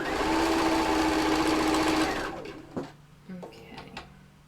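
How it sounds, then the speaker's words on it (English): Sewing machine stitching soft toy fabric, a loud steady motor whir for about two seconds that then stops, followed by a few faint clicks and handling sounds. "level that up and sew that in place"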